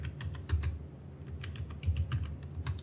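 Rapid, steady typing on a computer keyboard while entering data into an Excel spreadsheet, close, soft clicking keystrokes in an even rhythm over a low background hum.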